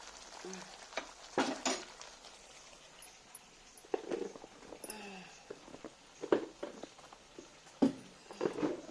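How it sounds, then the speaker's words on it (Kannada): Chutney boiling in a cooking pot, with irregular soft bubbling pops and scraping, stirring-like bursts scattered throughout at moderate loudness. "ಈಗ ಕುದಿಯಾಕೊಂತೈತಿ ನೋಡ್ರಿ."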